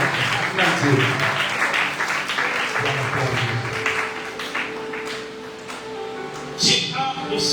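A church congregation applauds and cheers loudly and continuously, with shouting voices mixed into the clapping before it thins toward the end.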